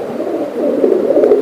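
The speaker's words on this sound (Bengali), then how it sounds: "একদম দেখেন অস্থির কবুতর" Pigeons at a pigeon market coo nearby, a low, rolling throaty call held for a moment and heard clearly on its own.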